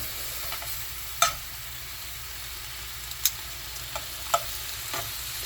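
Head-on shrimp simmering and being turned in a New Orleans-style BBQ sauce: a soft, steady sizzle with a few sharp utensil clicks scattered through it, fairly quiet and close.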